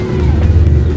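Bumper car ride at a family park, Papaye Recreational Village in Aburi, Ghana: a loud, steady low motor hum with a faint whine, continuous and close for about a second.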